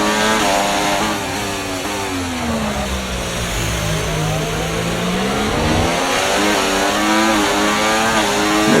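Several race cars in an F1 video game roar off the line at a Belgian Grand Prix start, engines loud and close with rising and falling revs overlapping steadily throughout, no talking.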